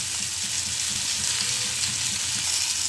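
Vegetables frying with turmeric, cumin and coriander powder for Bengali puishak chochori (Malabar spinach curry), a loud, steady, close sizzle throughout with no speech.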